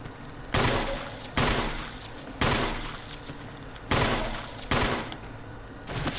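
Gunshots in the video game Resident Evil, about six heavy reports spaced irregularly about a second apart, each with a booming tail that fades before the next.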